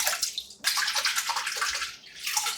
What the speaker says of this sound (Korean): 볼에 담아 물을 잠기도록 부어 깨끗이 3번 정도 씻어주고